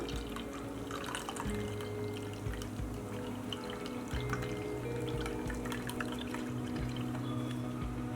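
Blended green gram juice, ground smooth with half a cup of water, being strained and poured, giving a quiet steady trickle and drip of liquid throughout with faint background noise.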